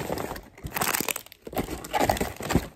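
Plastic packaging crinkling and crumpling up close, in irregular bursts of crackling rustle with brief pauses, no voices.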